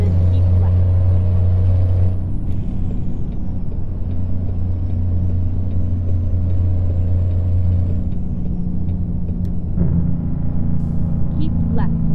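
A Peterbilt 359 truck engine in American Truck Simulator drones loudly and steadily at cruising RPM, with a brief hiss of air brakes, while someone talks over it.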